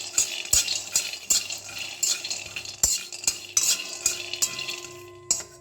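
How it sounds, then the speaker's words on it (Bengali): Peanuts dry-roasting in a pan, turned with a metal utensil that scrapes and clatters in sharp repeated strokes over a faint background hiss, close and clear. "এখানে দেখুন বাদামগুলি খোলায় একটু ভেজে নিচ্ছি"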